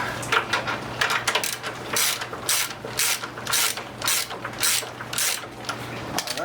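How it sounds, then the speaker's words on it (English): A ratchet loosens the wheel nuts on an Indian Scout motorcycle, giving close, repeated bursts of rapid clicking over a low steady hum. "Loosen this one up some too."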